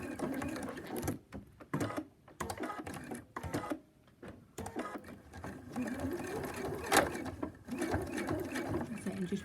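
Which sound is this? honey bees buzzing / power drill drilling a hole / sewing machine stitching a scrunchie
sewing machine stitching a scrunchie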